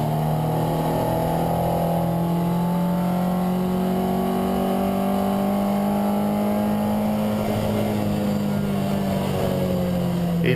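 A car engine drones steadily at high revs from inside the cabin during a lap of the Nürburgring, pitch slowly rising and falling with gear and speed changes under constant road and wind noise.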